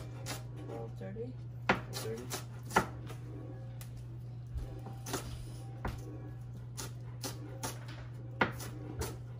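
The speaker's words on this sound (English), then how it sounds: "Chopping. What are you chopping?" Knife chopping food on a cutting board in a home kitchen: sparse, irregular sharp taps over a steady low hum, faint and close, while people talk in the background.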